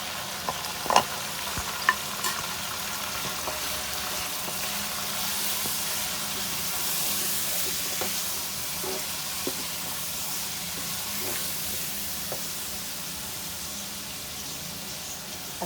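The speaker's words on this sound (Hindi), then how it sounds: "अच्छी तरह इसको भून लेते हैं मसाले को" Ground coriander, chilli powder and turmeric fry in a pan for bhuna gosht, with ginger and garlic, giving a steady close sizzle and hiss broken by occasional scraping stirs.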